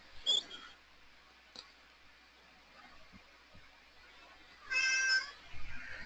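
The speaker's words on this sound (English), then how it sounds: "Such a demanding cat." Demanding cat meowing indoors, two distinct meows with a long quiet gap between them, near but fairly soft over faint room noise and clicks.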